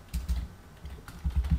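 Several short bursts of keystrokes as someone types code on a computer keyboard, close and fairly quiet, with brief gaps between the bursts.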